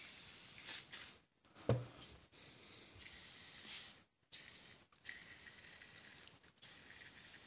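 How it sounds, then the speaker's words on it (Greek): Grease spray hisses from an aerosol can onto rusted metal parts in several bursts separated by short pauses, close and fairly steady. "Το συγκεκριμένο είναι σπρέι γράσου."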